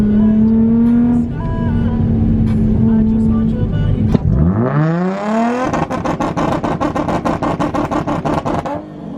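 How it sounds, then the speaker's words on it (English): Lifted Nissan S13 Z car driving over bumpy roads, engine droning then revving up loudly, followed by rapid rhythmic pulses and clatter as it bounces along, close and loud. "Bombing the bumpy roads with the lifted Z."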